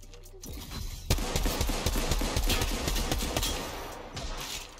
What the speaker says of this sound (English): I'm shooting one in the open.